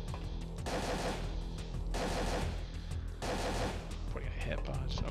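Repeated bursts of gunfire in the survival horror game Parasite Eve 2, loud clustered shots broken by short gaps, with a brief mechanical clatter near the end.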